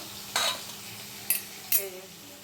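Tomato, green chilli, mustard seeds, dried chilli and bay leaf tempering in hot oil, a low steady sizzle punctuated by three sharp spatula scrapes against the pan.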